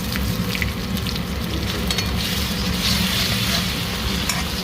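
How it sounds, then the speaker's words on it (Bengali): Loud, dense sizzling of ginger-garlic paste frying with onions in a hot pan, with occasional stirring scrapes over a constant crackling hiss. "এখন দিয়ে দেবো আদা রসুনের পেস্ট"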